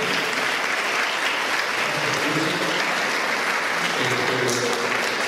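Loud, dense applause from a conference audience for Brenda runs continuously, with voices faintly mixed in and a brief word spoken.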